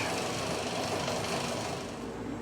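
A worktable sawmill cuts through an ash log, a loud, steady, dense mechanical roar that holds close and unbroken throughout, with no voices over it.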